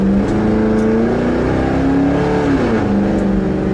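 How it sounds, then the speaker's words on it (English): A Crown Victoria Police Interceptor's engine roars under hard acceleration, loud and close, its pitch climbing through the gears with brief dips at each shift. "just gunning it in this thing, it just sounds fun."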